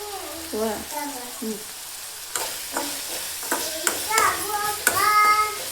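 Tomato softening in a pan for North Karnataka soaked churumuri, stirred with a spoon: intermittent scraping strokes over a low sizzle, with brief voices and knocks close by.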